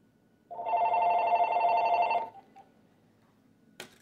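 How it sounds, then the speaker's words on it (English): A telephone rings in one continuous bell burst lasting under two seconds, loud and close, followed by a short click and then quiet. "This phone never rings, but of course today it had to."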